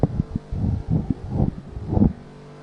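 Race cars in Project Cars 2 roar through a European GP round, engines surging and fading in repeated passes with wind-like rushing between them.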